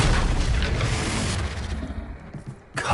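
The Confringo blasting spell in the video game Hogwarts Legacy sets off a deep, heavy explosion that booms loudly at first and rumbles as it decays, followed by a second sharp burst near the end.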